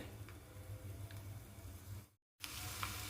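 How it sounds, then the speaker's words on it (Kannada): Oil boiling with crushed garlic in it, a steady close crackling sizzle with small pops that cuts out briefly and then returns a little brighter. "ಬೆಳ್ಳುಳ್ಳಿ ಸಮೇತ ಎಣ್ಣೆ ಕುದ್ದದ"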